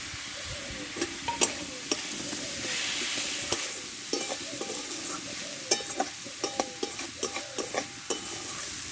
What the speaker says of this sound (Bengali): ভেজে রাখা ডালটা আমি ধুয়ে নিয়েছি এটা দিয়ে দেবো